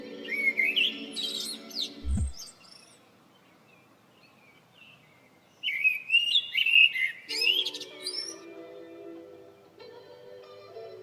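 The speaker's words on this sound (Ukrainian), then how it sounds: "спів птахів." Birds sing in bright, warbling bursts with quiet pauses between, a thin whistled note lingering underneath; the song is clear and fairly close.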